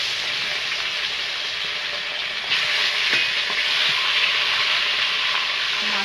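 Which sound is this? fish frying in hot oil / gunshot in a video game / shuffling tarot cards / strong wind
fish frying in hot oil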